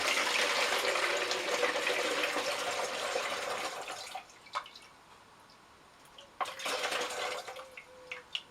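Liquid, a mixture with citric acid, pours steadily into a plastic bottle for about four seconds, then thins to scattered drips and trickles before a second brief gush.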